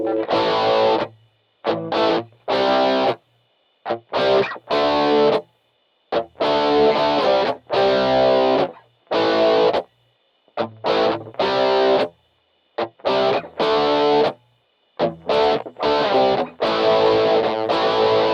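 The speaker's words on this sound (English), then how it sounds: "And you can hear that chorus roll in" Electric guitar through an MXR Rockman X100 pedal with the chorus effect switched on, giving a crunchy, distorted tone in short, loud strummed bursts separated by brief silences.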